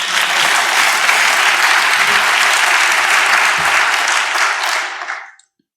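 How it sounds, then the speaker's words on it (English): An audience at a biomedical science session claps after a short contributed talk, full and sustained applause that holds steady and then fades out to silence. "You can clap now."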